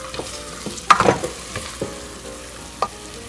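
A spoon stirs black arroz caldo with fish sauce in a pot over a low sizzle, with a few close scrapes and clinks, one cluster near the start and a lone tap near the end.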